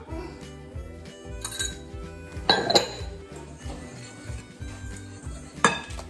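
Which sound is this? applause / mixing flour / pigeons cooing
mixing flour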